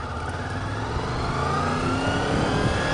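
A 1998 Honda VFR800 Interceptor motorcycle engine runs close and loud, its steady droning rumble rising slightly as it revs over three seconds, with no voices.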